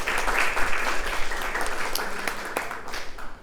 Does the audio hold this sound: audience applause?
yes